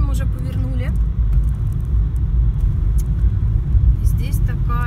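A car drives along a forest road with a dense, continuous low engine and road rumble heard from inside the cabin, steady throughout, with brief faint voice fragments near the start and end.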